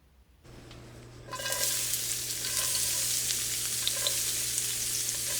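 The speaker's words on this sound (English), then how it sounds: "And we throw in the onions, throw in the pepper, and you just let that saute on the stove" Red onion and pepper sauté in olive oil in a skillet on low-to-medium heat, starting after a brief quiet moment and then settling into a steady, close, crackling sizzle that holds throughout.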